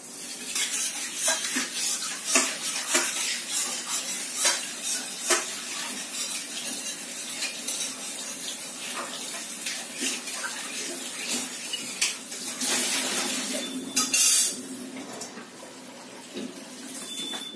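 A cooking pan is washed under water: intermittent splashes and scrubbing rattles with metal clinks recur irregularly up close, with a louder rush of running water near the middle.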